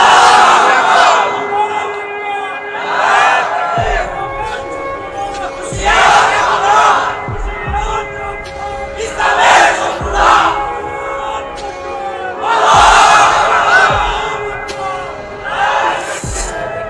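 Large crowd chanting takbir, loud repeated group shouts in rhythmic waves with a leader's voice calling between them, reverberant amplified public gathering.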